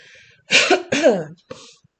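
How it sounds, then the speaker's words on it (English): Close, raspy coughing in two strong bursts and a weaker third, each rough and throaty with short pauses between. "I'm coughing so much"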